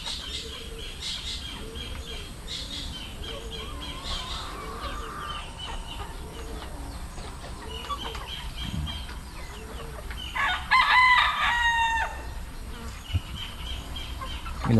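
Chickens perched high in a tree murmur and cluck softly in a steady, repetitive pattern, with a louder burst of squawking and clucking partway through, no talk.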